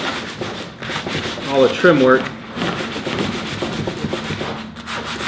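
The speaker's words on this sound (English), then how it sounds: "Again, we're not sanding it all off, we're just trying to scuff it up a little bit so the primer will hold on" Hand sanding of kitchen cabinet trim with 120-grit sandpaper, a light scuffing before primer: a steady, close rasping rub that continues throughout while a person talks over it.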